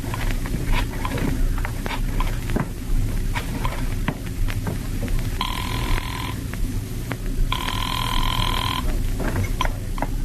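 An old-time telephone bell rings in two bursts within a radio drama, each ring a steady metallic trill lasting about a second, set over a constant low background hum.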